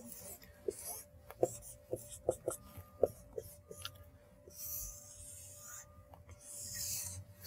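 A pen or marker drawing a graph during a physics lecture, a series of short scratchy strokes and taps followed by longer rasping lines, close and quiet.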